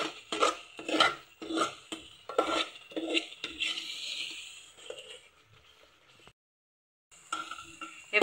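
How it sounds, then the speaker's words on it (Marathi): A spoon scrapes and stirs homemade garam masala and chilli spices frying in oil in a pan, rhythmic rasping strokes up close, then a softer sizzle and a brief silence. "आता आपण हे याच्यामध्ये टाकू आणि हे मसाले पण व्यवस्थित परतवून घेऊ"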